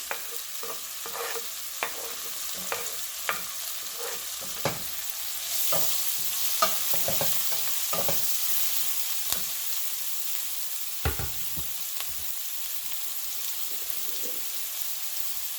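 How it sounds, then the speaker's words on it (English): Chopped onions sauté in a pan for a spicy tomato curry, with a steady soft sizzle and repeated scraping stir strokes, moderately close and without talk. "chopped onions. And allow them to nicely saute."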